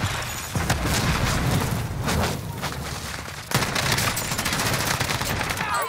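Rapid automatic gunfire from an MG34 machine gun in a first-person shooter, a sustained dense burst of shots with a renewed heavy volley partway through, loud and close throughout.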